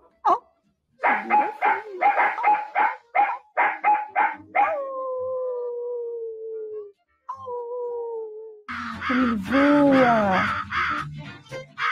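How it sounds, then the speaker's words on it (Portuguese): A bird calls outdoors in a rapid series of harsh, rhythmic notes, followed by long drawn-out tones and then a burst of mixed squawking, loud and close. "Olha o passarinho."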